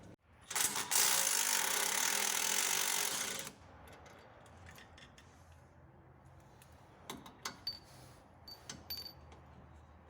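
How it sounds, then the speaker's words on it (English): A ratchet with a 15 mm socket spins the lower bolts off a 2021 Silverado front end, giving a loud rapid clicking burst for about three seconds, then scattered quieter clicks and clinks. "Now we're gonna take off the lower bolts, the 15 millimeter socket."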